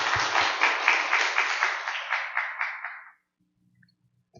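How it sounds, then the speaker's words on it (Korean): An audience at a church mission policy seminar claps to welcome the pastor to the stage, a brisk burst of applause that swells and then tapers off within a few seconds, leaving near silence. "우리 목사님 박수로 모시고"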